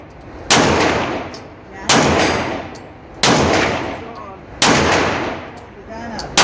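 Gunshots at an outdoor shooting range, the Weber County Shooting Complex, four loud, sharp blasts spaced about a second and a half apart, each ringing out and fading before the next.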